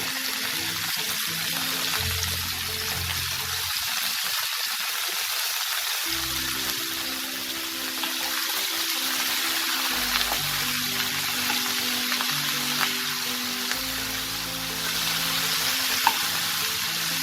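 Chopped onion stalks frying in a pan with softened potatoes and prawns, a steady broadband sizzle with occasional stirring scrapes, close and continuous without speech.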